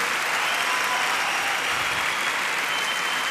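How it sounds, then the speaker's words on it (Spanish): Applause at a church gathering: a dense, steady wash of many hands clapping together, sustained at even loudness throughout. "Un fuerte aplauso."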